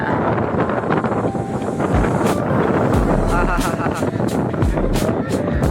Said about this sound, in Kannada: ಬರೀ ಗಾಳಿ ಐತೆ